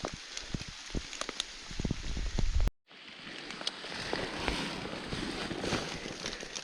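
Steady broadband patter of rain falling in a forest among young spruce trees, with scattered drops and rustling, briefly cut off before the dense hiss resumes.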